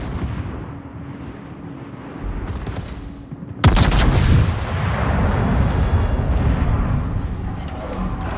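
Naval gunfire in the World of Warships video game: a low rumbling battle bed, then a sudden loud heavy salvo blast followed by sustained roaring, crackling fire and further booms.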